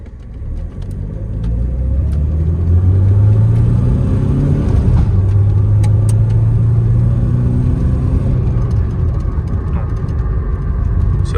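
Mercedes-Benz C200 W202 car engine pulling and accelerating while driving, a steady mid-pitched rumble rising in pitch through gear changes over several seconds, close and loud with no talk.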